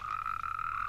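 A frog croaks in one steady, sustained trilling call, close and clear with nothing else heard over it.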